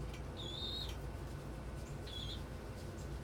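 Nesting birds in a coop give two thin, high peeping calls, each under a second and separated by a short pause, faint over a steady low background hum.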